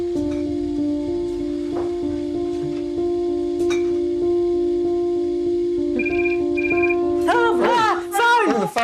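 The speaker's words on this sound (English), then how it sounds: "Phone." A telephone gives a short double ring over a steady droning tone, and a voice breaks in right after.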